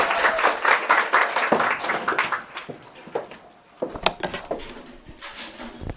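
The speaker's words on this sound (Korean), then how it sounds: "자, 박수!" An audience at a seminar on English teacher exam strategy gives a burst of applause that fades and thins into scattered claps, then picks up again with a few sharper individual claps near the end.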